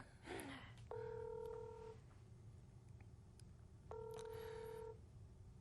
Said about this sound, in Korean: 전화 연결 계속 실패하네.